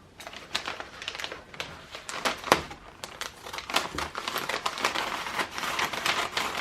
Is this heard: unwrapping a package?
yes